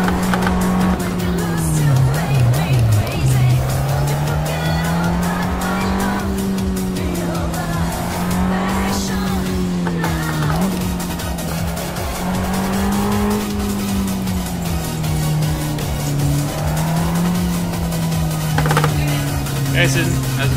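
A car drifting in Assetto Corsa, its tires squealing in long wavering tones over a loud, steady engine drone, while a person talks intermittently over the sound.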